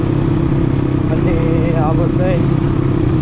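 Several motorcycles run together as a riding group sets off, a close, steady engine drone filling the scene while people talk over it.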